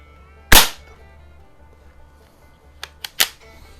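A Beeman AR2078 CO2 target rifle fires a single sharp, loud crack, followed a few seconds later by quieter clicks and a second crack, heard close up with no talking.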